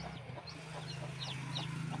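Young chickens chirp in short, high peeps scattered through the clip, close by over a steady low hum.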